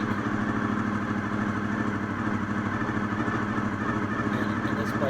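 A fifth-generation Honda VFR 800Fi motorcycle engine idles close by, a steady, even low hum with no change in pace throughout.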